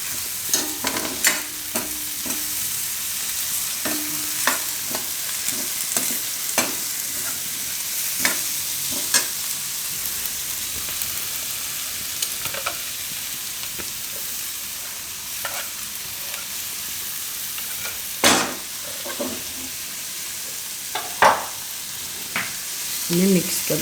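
Spinach and carrots cook in a pan over low heat while a spoon stirs them, giving repeated scraping strokes over a soft, continuous sizzle.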